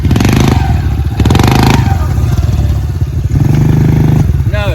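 A Honda CRF dirt bike engine revs loudly and close, repeatedly surging and dropping in short bursts as a rider practises wheelies, with talk in between.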